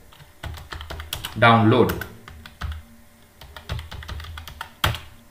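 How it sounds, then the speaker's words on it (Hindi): Keys on a computer keyboard clatter in close, irregular bursts as a search is typed into the Google Chrome browser, with someone speaking over the typing. "गूगल क्रोम ब्राउजर में आपको टाइप करना है यहां पर पैन कार्ड"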